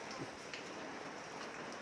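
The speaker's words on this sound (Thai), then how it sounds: "วันนี้บรรยากาศเย็นสบายกับ ฝนตก รินรินนะครับ" Light rain patters steadily outdoors as an even, soft hiss of drops with no clear individual impacts, constant and fairly quiet throughout.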